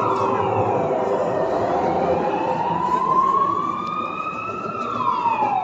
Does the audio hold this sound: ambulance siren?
yes